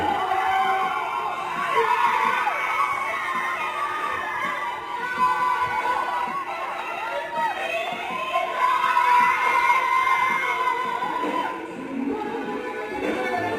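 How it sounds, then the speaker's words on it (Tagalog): A studio crowd of fans screams continuously, shrill voices rising and falling in waves at close, loud level, with a few shouts standing out over the roar. "Sigawan dyan sa studio."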